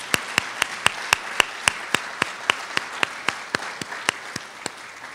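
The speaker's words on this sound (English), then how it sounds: "I'd like for you guys to give them a nice warm round of applause." An audience applauds at a formal gathering, with sharp, evenly spaced claps standing out over a steady wash of clapping that holds at a moderate level throughout.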